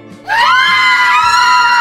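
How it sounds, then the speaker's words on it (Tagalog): A woman lets out a long, loud, high-pitched squeal of delight and giddy excitement, sustained alone for well over a second after a brief quiet lead-in. "Masayang-masaya niyang balita, sabay tili sa sobrang kilig."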